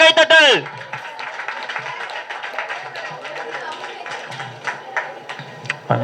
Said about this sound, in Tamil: ஒரு பெரிய பலத்த கைத்தட்டல்